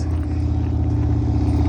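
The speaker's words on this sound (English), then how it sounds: "oh, this is a motorcycle." A motorcycle on a road rumbles steadily at close range, a continuous low engine drone with no voices over it.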